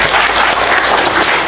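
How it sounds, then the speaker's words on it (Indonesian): Loud, continuous applause from a crowd of young farmers at a gathering, a thick burst of clapping filling the short moment close to the listener. "tepuk tangan untuk kita semua"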